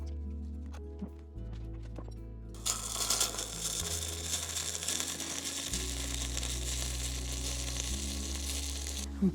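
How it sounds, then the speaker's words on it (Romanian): Hot pumpkin jam sizzles loudly and steadily in glass jars after sharp clinks and a low hum at the start, the crackling hiss continuing to the end. "Îmi place maxim atunci când sfârâie în borcan"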